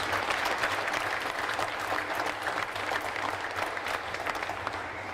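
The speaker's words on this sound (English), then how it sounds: "Let's give him a nice warm round of applause, please." Crowd applause at the Iowa State Fair opening ceremony, a sustained round of many hands clapping at moderate distance, steady throughout with no talk over it.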